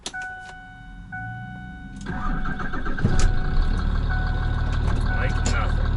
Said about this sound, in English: Pull the truck back in.